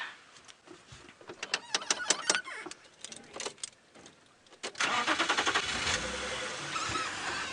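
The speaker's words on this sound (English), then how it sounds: "we've gone from a blue tractor to 2 large construction trucks" Two large construction trucks pass along a safari road in a wildlife reserve. Scattered clunks and engine bursts come first, then a loud, steady, close engine roar takes over for the last few seconds, with no voices.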